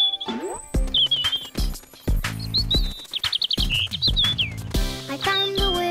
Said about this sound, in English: Robins are lovely birds. With a lovely song.